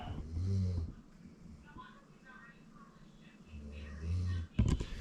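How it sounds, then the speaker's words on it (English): A dog snoring somewhere in a room, low rumbling snores recurring in slow rhythm with quieter breathing between them, followed by a short snort-like burst near the end. "That's my dog over there snoring."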